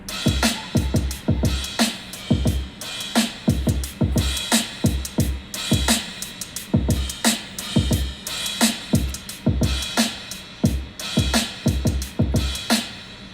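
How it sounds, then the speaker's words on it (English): A lofi beat's drum loop with a light hi-hat pattern, steady repeating kicks, snares and ticking hats looping at a relaxed tempo, loud and close with no talking. "so those are the drums for the beat originally"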